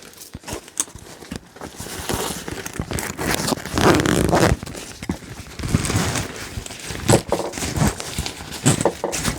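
Zipper being pulled on the zippered mesh pocket of a hiking backpack holding a hand towel, a few scratchy zips and rustling handling noises close by, with no talk.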